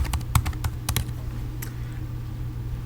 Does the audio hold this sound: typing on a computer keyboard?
yes